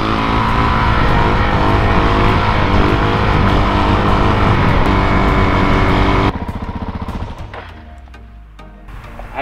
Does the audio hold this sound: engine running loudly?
yes